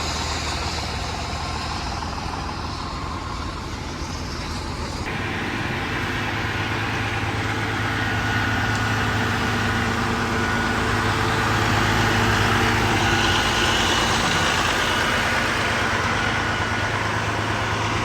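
Truck engine idling in the snow after a repair: a steady, loud, low rumble that continues for the whole stretch with a constant hum and no talking.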